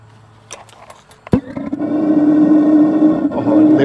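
An RV water heater's gas burner catches with a sharp whoosh after a few faint clicks, then settles into a steady, close, roaring burn that wavers slightly.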